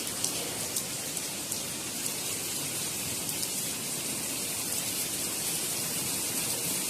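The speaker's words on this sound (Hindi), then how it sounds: "लेकिन बारिश आ गई" Steady rain falls throughout, a dense hiss with scattered soft drops tapping nearby surfaces; no one speaks.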